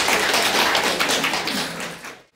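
Applause from an audience greeting a guest at an international painting, photography and sculpture exhibition, a dense steady patter of many hands for about two seconds before cutting off abruptly.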